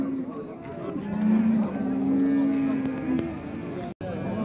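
At a Shymkent cattle market, cows low in drawn-out, wavering moos close by, while people talk nearby and market noise fills the background.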